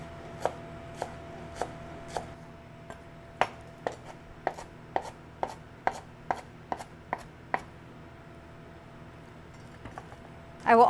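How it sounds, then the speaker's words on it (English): Cilantro being chopped with a knife on a cutting board, a series of crisp, evenly spaced knife strikes in quick rhythm, close and clear over a quiet kitchen with a faint steady hum, no talking. "I'm gonna chop my cilantro up."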